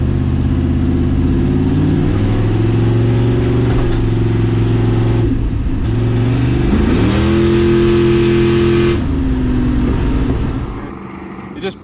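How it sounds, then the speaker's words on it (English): A Volvo car with a swapped 383 stroker V8 revs loud and close during a burnout, its engine note climbing and shifting in pitch for about ten seconds before trailing off at the end. "You just push the front tires on the burnout."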